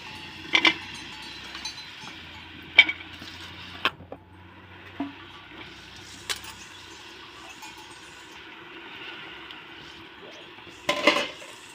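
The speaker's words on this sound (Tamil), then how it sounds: "இப்போ நம்ம எடுத்து வச்ச காளானையும் போட்டுடலாம்." Mushrooms go into a pot of biryani cooking on a wood-fired stove, with sharp metallic clanks of a utensil against the pot spaced out over a quiet background, ending in a louder clattering stir.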